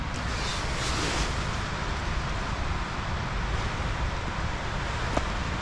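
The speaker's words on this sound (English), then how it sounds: "It was windy like this when I was flying also" Strong wind roars through a dark autumn forest in Sweden, a steady, loud, broadband rush with gusty buffeting against the microphone and no voices.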